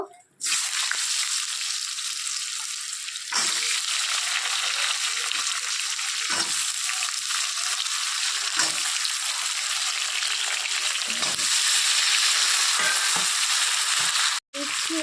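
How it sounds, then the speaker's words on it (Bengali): Potatoes and ridge gourd fry in hot oil with a loud, steady, close sizzle that runs throughout, broken only by a brief gap near the end. "এখন ওই তেলের মধ্যে আমি আলু আর ঝিঙ্গে ভেজে নেব"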